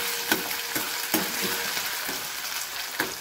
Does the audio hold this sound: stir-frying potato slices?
yes